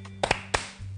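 A few quick, scattered hand claps ring out in a TV studio, three sharp hits close together over a low electrical hum, with no speech.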